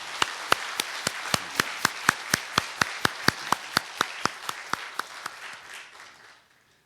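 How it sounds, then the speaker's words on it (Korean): A church congregation gives the choir a round of encouraging applause during a worship service. Crisp, evenly spaced claps from a nearby pair of hands ride over softer group clapping, then fade out. "그렇게 격려의 박수 보내겠습니다."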